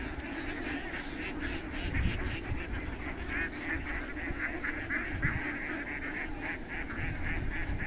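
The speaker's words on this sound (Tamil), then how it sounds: "இது ஒரு 1000 வாத்துக்கு மேலே இருக்கும்னு நினைக்கிறேன்." A dense chorus of over a thousand ducks quacking continuously on farmland, many birds calling at once in a steady, noisy clamor with no talking.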